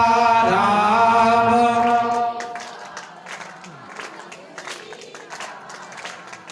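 A sustained sung tone gives way to a crowd of devotees at a Hindu katha clapping along, with scattered, fairly loud handclaps in a loose rhythm while voices keep singing softly underneath.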